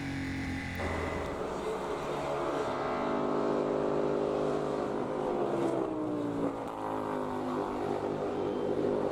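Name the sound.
F4 single-seater race cars racing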